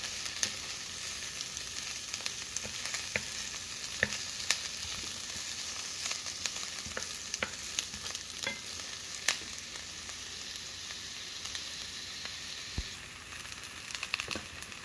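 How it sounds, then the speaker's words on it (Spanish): Garlic and onion fry steadily in a pan, a continuous close sizzle with scattered crackles and occasional soft stirring scrapes, no voices. "Vamos a sofreír bien el ajo y la cebolla"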